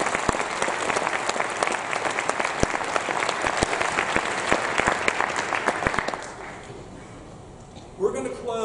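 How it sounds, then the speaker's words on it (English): Audience applause fills a youth concert orchestra hall at a junior music festival, dense steady clapping for about six seconds before fading into quiet room tone, followed by a brief voice. "One round of applause for them."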